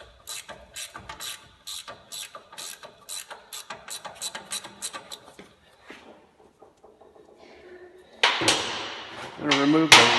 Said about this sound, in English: I'm going to remove the lower ball joint bolt. This one takes a 15/16 socket.